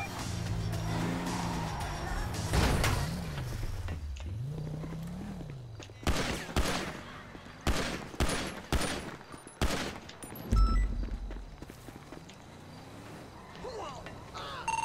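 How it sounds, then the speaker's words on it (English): Gunfire in a police roleplay video game: after a car engine revs and swerves with tire noise, a rapid volley of sharp, loud shots rings out in quick succession, then the scene settles to a low rumble. "Shots fired."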